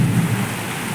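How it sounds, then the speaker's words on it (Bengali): A thunderstorm with heavy rain and gusty wind: a deep rumble of thunder under a steady wash of rain, loud and continuous through a brief moment. "কিভাবে বৃষ্টি হচ্ছে দেখো, তার সাথে ঝোড়ো হাওয়া আর বজ্রবিদ্যুৎ"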